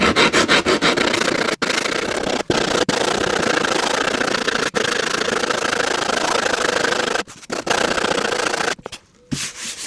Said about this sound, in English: I'm using my permagrit just to sand down the surfaces where they protrude and obviously get some of the glue off as well.